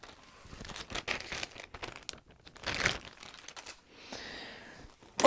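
An empty plastic bag crinkling and rustling nearby in irregular bursts, some sharp crackles and quieter handling noises, with a brief pause partway through.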